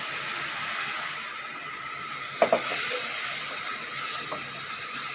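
Steady hiss of tomatoes frying in hot oil for a gravy, the steam sizzling evenly and fairly loud throughout, with a couple of faint clinks partway through.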